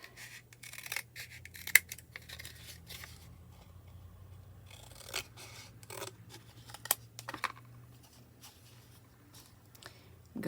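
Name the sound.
scissors cutting a piece of paper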